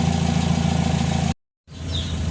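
Petrol car fitted with an HKS Srigala exhaust, its engine running loud and close with a steady low rumble, cutting out briefly to silence and then resuming.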